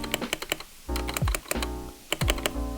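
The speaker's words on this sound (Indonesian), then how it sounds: "Kayak kalau lo ngetik ke bagian kiri tuh kayak masih ada bunyi krak gitu loh" Rapid clacky keystrokes on a Rexus Daxa M71 Pro mechanical keyboard, close up, with two deeper thocks from the spacebar amid the steady tapping.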